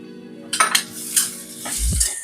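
A spoon stirs potato samosa filling with coriander powder, garam masala, turmeric and salt in a pan, making a few close scrapes and clinks against the metal over a low hum and a short soft thump.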